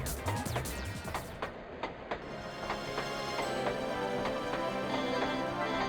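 Train rolling on rails in the PlayStation game Rescue Shot: a steady rumble with regular clicking rail joints under continuous music-like tonal layers, no talking.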